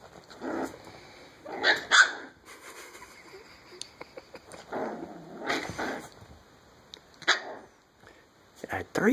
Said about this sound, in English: Three barks at one time.